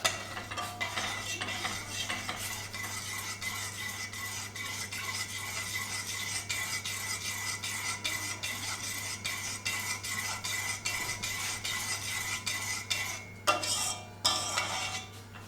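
A spoon stirs sour cream into water steadily in a pot, scraping and clinking against the metal in a quick, continuous rhythm, with a few louder knocks near the end.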